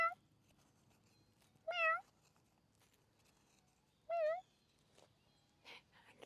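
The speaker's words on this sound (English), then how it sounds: "Meow." A cat outdoors meows twice, a few seconds apart, each call clear and close against near silence, with faint brief sounds at the end.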